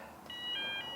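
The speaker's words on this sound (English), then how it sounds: "button pressed, and there goes the alarm" Warning alarm on a canal swing bridge sounds as the bridge begins to open: a steady electronic tone with bright, sustained pitches that starts a moment in and holds loud and continuous to the end, over faint background hum.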